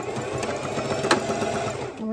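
A sewing machine forward-stitches ribbon trim on a 2T mermaid tutu, a continuous close mechanical hum with rapid rhythmic needle ticking, while a person talks over it.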